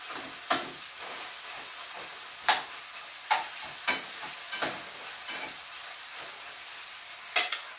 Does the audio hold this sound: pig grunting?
no